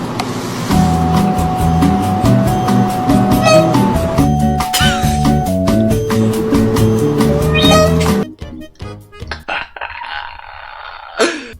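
A cat meows repeatedly and loudly in drawn-out, whiny calls over a musical backing, and the track then drops to a quieter stretch with scattered sounds.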